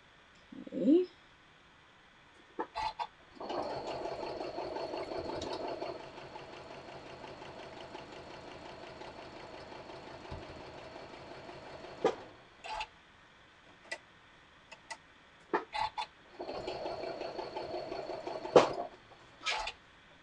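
A home sewing machine chain-pieces quilt blocks for Polaroid-style quilt blocks, running in several steady whirring bursts separated by pauses, clicks and fabric handling, close up with no talking.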